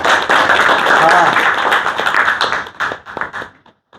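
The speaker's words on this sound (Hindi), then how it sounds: "एक बार बहन के लिए तालियां" An audience at a yoga satsang claps together loudly for a few seconds, the dense applause thinning into scattered individual claps before dying away.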